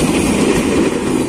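Former Tokyo KRL commuter train, set 8518/8618, rolling past close by with a steady loud rumble and wheel-on-rail noise throughout, with no talking.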